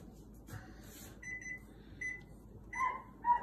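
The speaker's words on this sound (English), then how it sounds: "now we set the timer for 10 minutes" A kitchen timer is set with a few short, faint electronic beeps and button presses, ending in two slightly louder bleeps over quiet room noise.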